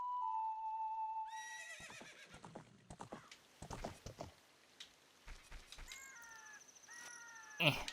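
A horse in the Zelda Ocarina of Time video game gives a loud whinny, then clip-clop hoofbeats and a string of short game sound effects. Another neigh and bright chimes follow, with no speech.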